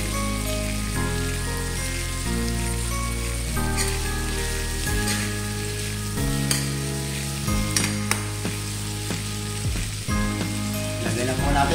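Squid sautéing in a pan, a bright continuous sizzle with occasional sharper crackles and stirring scrapes, heard close over steady background music.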